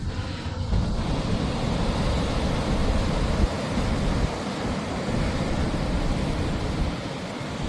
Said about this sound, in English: to see the power of the waves, the sounds of the waves.